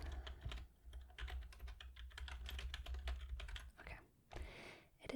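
Fingers type on a computer keyboard in a quiet, close ASMR-style setting, with rapid irregular clicks and taps in bursts and short pauses between runs.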